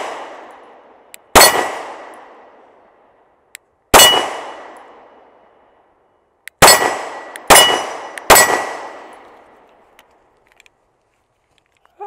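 Sig P365 XL pistol shots ring steel targets at 10 yards on an outdoor range: five loud, sharp clangs, each followed by a long metallic ring-out. The first three are spaced a few seconds apart and the last two come in quicker succession.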